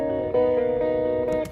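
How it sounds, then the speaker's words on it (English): An electric guitar soaked in phaser and reverb holds sustained, shimmering chords with a swirling, washed-out tone and a few brighter accents near the end. "the main guitar is like really, it has a lot of phaser, it has some reverb and all that"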